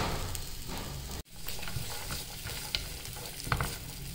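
Chopped onions fry in a few tablespoons of oil, giving a soft steady sizzle with a brief cut near the start and faint stirring clinks, heard alone without talk.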